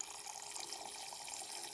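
Water from a tap or small container trickles steadily into a pet locust's water dish, a faint, continuous splashing and dripping with no voices.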